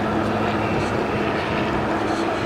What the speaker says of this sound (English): some kind of military helicopter up there